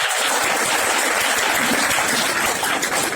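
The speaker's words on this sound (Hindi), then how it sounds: "जोरदार तालियां इसके लिए" Enthusiastic applause from a meeting audience at Tiwari Bhavan, a thick, even roar of many clapping hands filling the room at full loudness with no talk over it.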